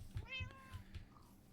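A single short meow from a Minecraft cat sounds early on, close and clear against quiet low-level game ambience.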